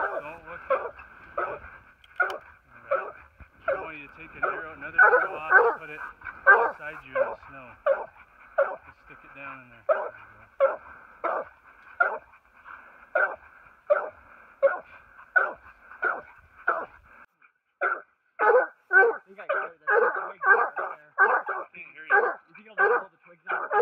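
Hunting dogs barking during a mountain lion hunt, a rapid, steady run of loud, close barks and yips that continues for the whole stretch.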